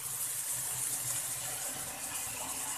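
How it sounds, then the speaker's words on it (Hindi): Boiled macaroni being drained, with water pouring and splashing steadily through a strainer for a few seconds, a soft continuous gushing hiss with no voices. "हमने इनको पानी को स्टेन कर दिया है"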